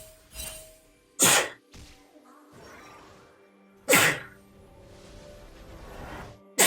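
A person sneezes three times in sharp, explosive bursts while playing League of Legends, each sneeze close and loud against a quiet room with faint game sounds underneath.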